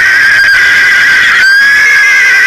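Horses neigh in a loud, shrill whinny held through the whole moment, with a brief break midway, amid a cavalry regiment charging cannons in an Empire: Total War battle between the USA and the Ottoman Empire.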